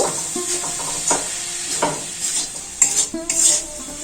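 Grated coconut and date palm jaggery being stirred in a pan for a sweet filling, with repeated scraping and clinking of a spatula against metal over a soft sizzle.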